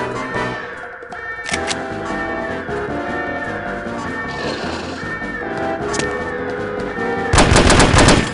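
In the spy shooter No One Lives Forever, steady game music is broken by occasional gunshots, ending in a loud, rapid burst of automatic fire.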